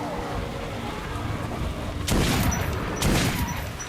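Gunfire in the video game Metro Last Light Redux: two loud broadband shots, one at about two seconds and another a second later, over a steady background of game ambience and low rumble.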